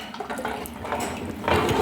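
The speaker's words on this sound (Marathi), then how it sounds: "तांदळामध्ये गरम पाणी घालत आहे." Hot water is poured into rice in a cooking pot for tomato rice, a short splashing gush with faint clinks of the vessel, ending in a louder burst of pouring.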